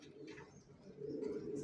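Soft cooing comes from racing pigeon chicks kept in a breeding loft, a low, gentle murmur that swells slightly toward the end and stays quiet throughout.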